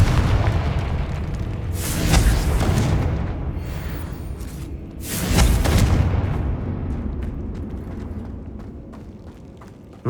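The Confringo fire spell in Hogwarts Legacy sets off two heavy, booming explosions a few seconds apart, each swelling into a deep rumbling roar that fades slowly between the blasts.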